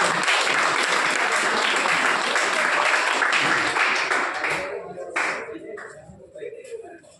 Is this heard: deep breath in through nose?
no